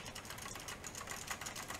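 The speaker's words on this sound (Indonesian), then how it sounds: "Pasti kamu akan dengar bunyi keyboard yang agak" Steady, rapid clicking of a regular computer keyboard being typed on continuously, close and moderately loud, with no voices.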